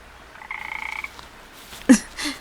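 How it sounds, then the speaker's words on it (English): Hylian frogs in a cave croaking: a rapid pulsing trill, then a sharp louder croak followed by a softer one, close and echoing. "Goodbye, little froggies."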